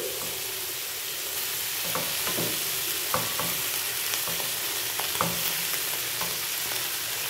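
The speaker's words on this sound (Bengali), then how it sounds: "যখন এটা ভাজা ভাজা হচ্ছে তখন এটার মধ্যে দিয়ে আমি আস্তে আস্তে এবারে চালগুলোকে দিয়ে দিচ্ছি" Rice sizzles steadily in a hot pan while a utensil stirs and scrapes in irregular clacks, close up.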